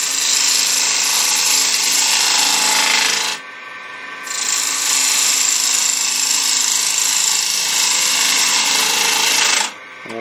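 A bowl gouge cuts a punky wood blank on a lathe, a loud continuous rasping hiss that breaks off briefly twice as the tool lifts away, then resumes.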